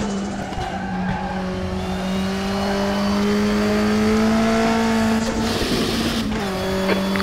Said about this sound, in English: You're locking your right front going into the chicane